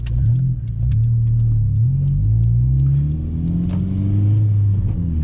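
A Honda Civic's engine drones steadily while driving, its pitch climbing and dropping through several gear changes as the car accelerates, with a constant rumble and no voices.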